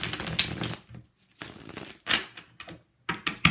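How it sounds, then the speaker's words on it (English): Tarot cards shuffled by hand in short bursts of riffling and slapping, close and fairly crisp, with brief pauses between bursts and no talking. "Let me just shuffle first."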